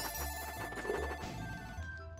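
A telephone rings in the Messy Up video game, a bright repeating electronic trill over a couple of seconds, fairly loud and alone.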